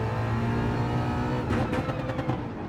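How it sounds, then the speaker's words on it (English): Ford Mustang GR3 race car engine in Gran Turismo 7 revving high and steady, a loud continuous mid-pitched drone that turns rougher and pulsing partway through, with no voices over it. "Car's still revving high"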